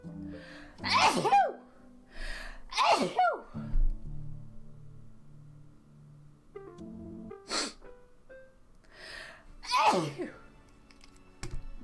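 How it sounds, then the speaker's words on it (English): Several loud sneezes close to the microphone, three in quick succession and then another a few seconds later, with a sharp gasping intake before each. Quieter background sounds fill the gaps between them. "I need to sneeze."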